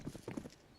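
Horse clip-clop and a brief whinny from ambient animal noise on the Inferno map of Counter-Strike during a BLAST Premier esports match, quick hoof knocks in under a second, fairly faint and mixed with game audio.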